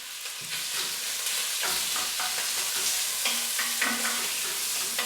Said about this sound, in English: You want to crisp it off and brown off each piece, so a little handful at a time will be perfect.